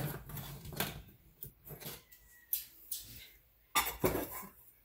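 Metal roasting pan clanks and scrapes on a kitchen counter in short separate knocks, several sharp bangs spaced across a few seconds, fairly close, with no voices.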